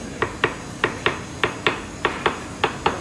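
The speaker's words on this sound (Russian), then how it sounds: "а кожу выстукивают, чтобы гладко легла вот таким молоточком" A small hammer taps leather by hand in an Italian luxury shoe workshop, striking ten sharp, evenly spaced light blows close by with no talk.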